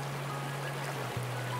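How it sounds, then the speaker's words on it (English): The San Miguel, a wild, undammed freestone river, rushes through riffles and around large boulders into pocket water, giving a steady, close broadband wash of flowing water with a faint low hum beneath it. "The river flows through riffles, pools, and around large boulders that create great pocket water and the perfect trout habitat."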